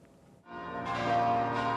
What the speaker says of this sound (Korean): 성조기를 내건 수도 워싱턴 DC 국립성모 대성당에 종소리가 울려 퍼지고